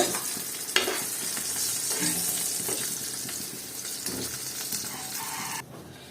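Dried hilsa fish frying lightly in oil without salt, a steady close sizzle and crackle running throughout with occasional stirring scrapes, ending in a sudden drop near the end.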